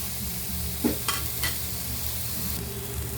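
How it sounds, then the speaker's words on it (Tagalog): Onions sautéing without oil in a hot pot for sinigang, a steady close hiss with a couple of brief scraping knocks from stirring, no voices. "parang ginigisa natin ang sibuyas pero walang mantika"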